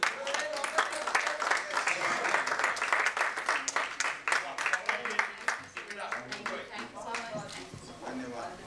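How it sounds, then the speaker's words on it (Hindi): Audience applause at an awards ceremony: dense, steady clapping from a crowd that holds strong for several seconds, then thins into looser, uneven claps toward the end. "जोरदार तालियां हो जाएं."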